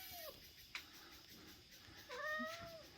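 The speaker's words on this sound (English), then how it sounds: "This cat now lives permanently out here." An outdoor cat in Peru meows close by, with a short call at the start and a chattier, rising meow near the end, against steady background ambience.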